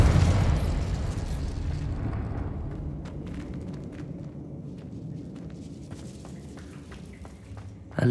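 A Confringo blasting spell erupts in Hogwarts Legacy: a deep, loud boom decays into a long rumbling tail peppered with scattered crackles, and a fresh burst hits right at the end.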